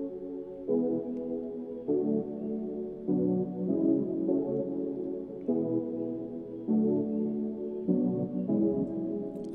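An Alchemy synth patch in Logic Pro, programmed for an Afrobeats track, plays alone as sustained, warm harmonic chords that change in a steady rhythm, one block roughly every second and a half, clean and upfront.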